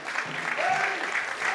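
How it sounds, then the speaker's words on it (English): Brief, soft applause from football supporters in the stands as a substituted player leaves the pitch, heard at a distance with a commentator talking over it. "Cayman getting a nice round of applause from the Barrytown fans"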